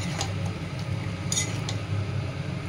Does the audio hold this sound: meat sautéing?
yes